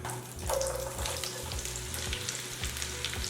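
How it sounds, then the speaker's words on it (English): Butter melting and sizzling in a pan on medium to medium-low heat, ahead of caramelizing onions; a steady close crackle runs throughout, with a few faint stirring clinks and no talk. "And put the pan on, put our butter in."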